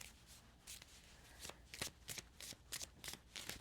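A deck of tarot cards is shuffled by hand, with quiet, soft riffling bursts repeating in an uneven rhythm, close and alone.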